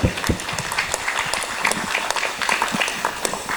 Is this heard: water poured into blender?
no